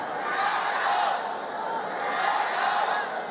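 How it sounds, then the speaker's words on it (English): A passionate crowd chanting and roaring at a fight event during the final round, a continuous distant wall of voices with rising and falling swells and no clear individual speech. "you can hear the very passionate crowd calling for Zewaliluo to put on the pressure"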